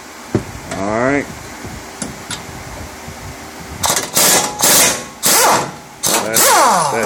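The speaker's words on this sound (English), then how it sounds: "He's going to go ahead and take the Bolt's out." Caliper bracket bolts are zipped out of a 2008 Ford Escape with an air impact wrench: several loud, close, buzzing bursts in quick succession, after someone talks over quieter shop noise.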